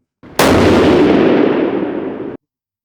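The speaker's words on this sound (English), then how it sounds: "It's a fine shooting rifle you got here, Aaron." A single loud Weatherby 307 rifle shot fired outdoors at a range, a sharp blast trailing into a roughly two-second rumbling decay, with no talk.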